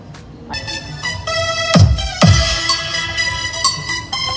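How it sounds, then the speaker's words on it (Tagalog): Music with a deep, booming bass thumping through a subwoofer in a tri-amp speaker setup powered by a Joson Moon Pro Max 4.800 amplifier, two heavy low hits standing out over a steady melodic backing. "Ayan yung tunog ng subscope."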